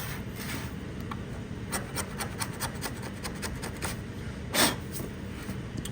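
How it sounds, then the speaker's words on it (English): A scraper rasps primer and rust off a bare metal test panel in short repeated strokes, a quiet dry scratching rhythm with one louder scrape near the end, no talking. "It's scraping off fairly easily, but there's not as much rust as some of the other panels."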